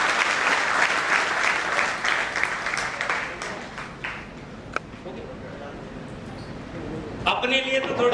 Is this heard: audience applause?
yes